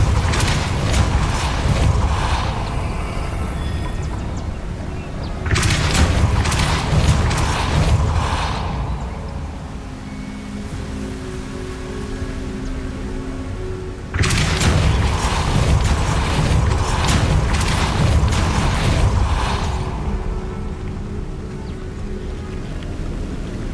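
Spell blasts in Hogwarts Legacy on Xbox Series X land as three loud booming bursts with rumbling, crackling tails. Each burst lasts a few seconds, and quieter mechanical creaks and a low hum fill the gaps between them.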